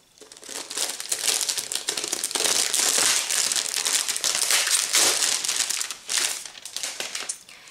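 Crinkly wrapping torn and crumpled off a special edition Alice in Wonderland book, with a steady run of close, loud crackling and rustling for several seconds, easing off briefly near the end.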